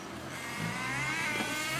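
An RC car drives steadily, its small motor giving a continuous whine that builds slightly over a couple of seconds, close by and with no talking.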